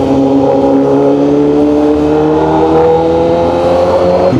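A 2023 Honda CBR1000RR-R Fireblade SP motorcycle rides through traffic in Bulacan, its engine giving a loud, close, steady drone with slowly rising pitch as it accelerates, and no talking.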